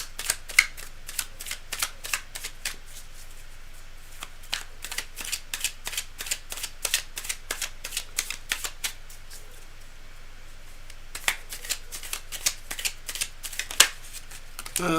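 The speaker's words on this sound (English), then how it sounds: "The cards are well shuffled beforehand, but I like to go for the last second if that's possible" Tarot cards are shuffled by hand in rapid, crisp riffling bursts, with a run of sharp clacks and brief pauses between shuffles, close and clear.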